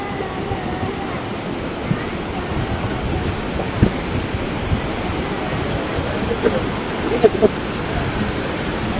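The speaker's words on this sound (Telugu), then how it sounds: "ఇప్పుడు వాటర్ ఫ్లో సౌండ్ ఘోరంగా అంటే ఘోరంగా వస్తున్నది" Water flows loudly near Edupayala temple with a constant, roaring rush like a waterfall. A few faint knocks and clicks break through the steady wash.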